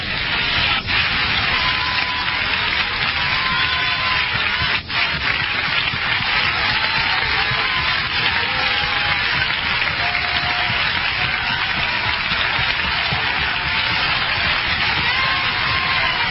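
Continuous crowd applause at a church service, a dense wash of clapping that holds steady without pause for the whole stretch.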